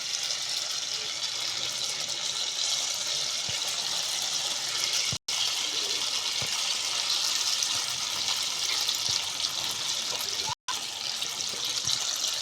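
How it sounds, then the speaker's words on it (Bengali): Small spoonfuls of batter drop into very hot oil and fry, a steady loud hissing sizzle that stays even throughout, broken by two very short gaps. "এবারে এইখান থেকে এই ব্যাটার নেবো আর ছোট ছোট করে এইভাবে তেলের মধ্যে আমি ছেড়ে দেব।"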